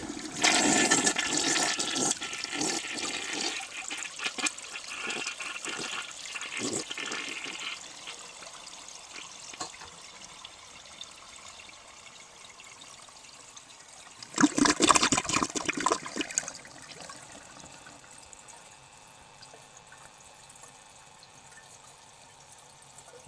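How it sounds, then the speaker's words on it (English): A 1966 Mansfield Simplex toilet flushes up close with a loud rushing gush that fades into trickling refill, then a second surge of rushing water midway before settling into a quiet dribble. "Now I'll try this again and see if the flush is any better."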